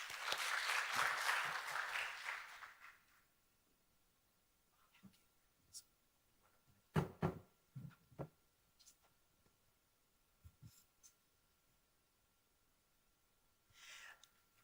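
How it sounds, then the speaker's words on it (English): Applause from a conference audience at a Singapore tech event, a dense burst of clapping for the first few seconds that fades out, followed by quiet room noise and scattered small knocks. "Let's give her a round of applause."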